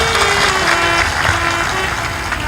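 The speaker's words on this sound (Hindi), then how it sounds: "ताली बजा दो इनके" An audience claps in applause at a Hindi-language talk, a short dense burst of hand claps that stays fairly loud throughout.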